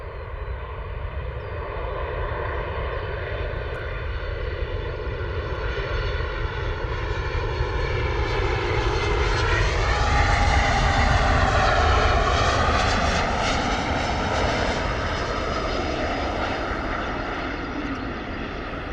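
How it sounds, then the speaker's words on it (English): SunExpress Boeing 737 MAX 8 airliner coming in to land at Bristol Airport, a loud sustained engine roar with a broad rumble and a whine that sweeps in pitch as it passes overhead. "Sun Express coming in, Boeing 737, Max 8."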